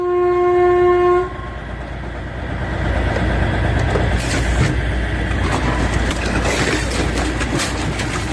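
A train rolls through a station, opening with a loud, steady horn blast for about a second, then a rising rumble and clatter of wheels and cars that stays close and loud to the end.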